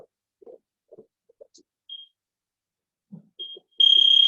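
An electronic timer beeps, short separate chirps at first and then a sustained loud tone at the end, with faint soft taps and knocks spread through the quiet before it.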